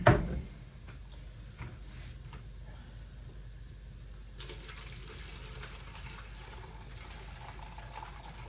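White sauce poured through a fine sieve into a jug: a soft, steady trickle of liquid after a brief knock, faint and close, with no voices.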